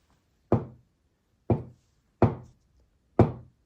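Four sharp knocks rap on an Arduino knock-lock box, close and dry, each ending in a short thud, spaced roughly a second apart with silence between and no voices.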